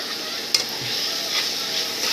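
Oggarane tempering sizzles in oil in a pan for mosaranna curd rice, a steady, close frying hiss with one brief clink near the start, no talking.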